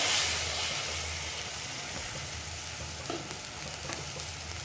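Eggs frying in a pan for moringa-leaf egg bhurji, giving a steady close sizzle and hiss with a few light scraping touches near the end.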